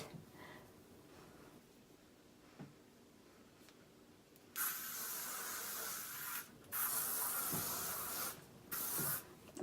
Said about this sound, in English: Probably don't need all that hairspray.